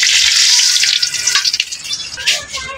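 An egg sizzles in a hot pan with a bright, crackling hiss that is loud at first and then sputters unevenly, with a voice faintly underneath.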